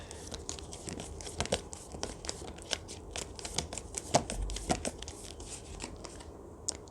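Tarot cards are shuffled in a continuous run of quick, crisp riffling and slapping that is close and fairly steady, with no voices.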